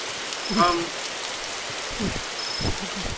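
Steady rain in a Roblox game hisses throughout, with a few soft thuds and brief faint voices underneath.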